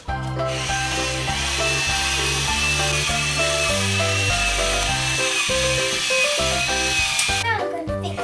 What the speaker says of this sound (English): Are you drilling the wall?